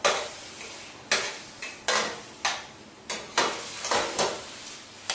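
Roasted eggplant for baingan bharta being mashed in a metal pan: about eight separate dull strikes with short scraping tails, spaced irregularly roughly every half second to second, close and alone without speech.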